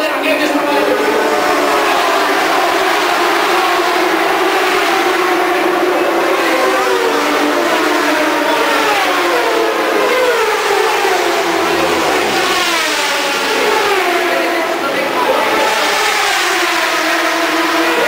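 1000cc racing motorcycles tearing past at around 300 km/h on the Interlagos circuit, a dense continuous engine roar with rising and falling pitch sweeps, loud throughout, with a commentator talking over it.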